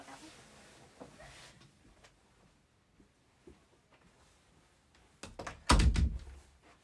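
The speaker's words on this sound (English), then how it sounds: "Let me shut my door" A bedroom door swings shut with a couple of loud close thumps after a quiet stretch of faint knocks and shuffling.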